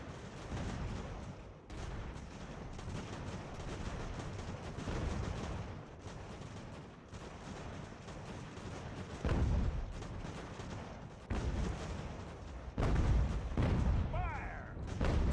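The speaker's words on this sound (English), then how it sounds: "it did look like that salvo of canister did some damage" Musket volleys and canister artillery fire from the battle game Ultimate General: American Revolution crackle and boom in a dense, continuous fusillade, with heavier blasts rising near the end under a faint voice.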